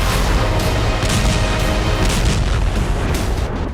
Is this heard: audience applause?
no